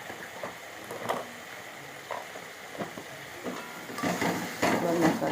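Spice masala for a chicken curry sizzling and frying in a pan, a soft continuous hiss broken by scraping stirs, growing louder toward the end as the mixture is worked, with a voice speaking over it.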